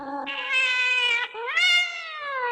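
A black cat in the Haunted Mansion gives two long, loud, drawn-out meows, the second rising in pitch, heard up close and alone.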